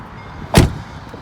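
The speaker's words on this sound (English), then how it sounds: "you've gone from being an open top Roadster to a sealed roof coupe in about 15 seconds" A 2007 Mercedes-Benz SL550 roadster's retractable hard roof finishes closing with a single solid, close thunk as it locks into place, then quiet.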